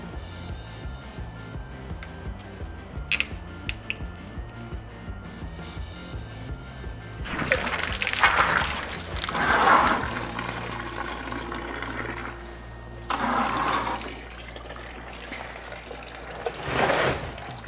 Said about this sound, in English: we're going to take the lower radiator hose off, which the car is not done draining, so we're going to have a little bit of a waterfall